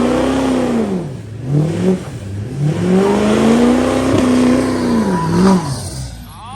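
A GMC pickup truck engine revs hard several times, its pitch climbing and dropping in repeated surges, loud and close with no voices over it.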